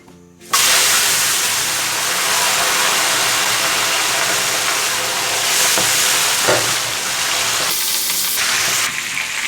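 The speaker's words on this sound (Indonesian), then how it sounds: "Nah oke guys, sekarang kita goreng." Catfish (lele) frying in a pan of hot oil: a loud, continuous sizzle that starts abruptly and holds steady, with a few brief shifts as the fish is stirred or moved, and no talking.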